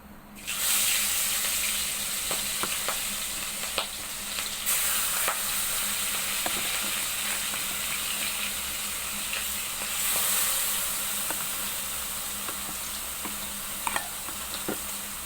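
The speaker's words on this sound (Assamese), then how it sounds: "ভাজি আছোঁ মাছখিনি" Fish pieces fry in hot oil in a pan at home, with a dense, continuous sizzle that holds steady close up and has small pops and crackles scattered through it.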